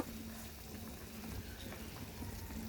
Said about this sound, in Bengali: বলক চলে আসছে